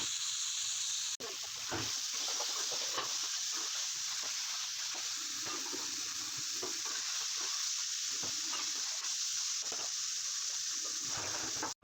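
Chickpea masala with green chillies sizzles and fries steadily in oil in a pan, a close, continuous hiss with faint stirring scrapes throughout, no voices.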